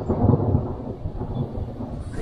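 A deep, rolling rumble of thunder fills the clip, loud and close, with a faint patter of rain underneath and no voices.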